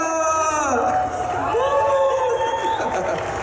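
A fan convention crowd at Comic Con Brussels cheers and whoops loudly during a Harry Potter cast Q&A, with excited voices rising over a busy, packed hall.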